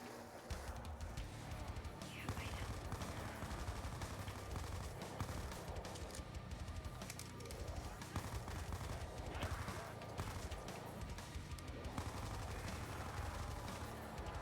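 Sustained video game gunfire, with rapid automatic bursts and overlapping shots rattling almost nonstop, fairly loud and close, with only brief gaps and no voice audible.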